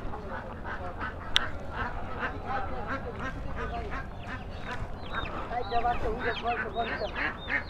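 Ducks quack repeatedly among poultry for sale at an old village market in Narayanganj, mixed with busy crowd chatter and people talking nearby.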